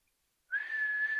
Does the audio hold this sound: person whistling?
yes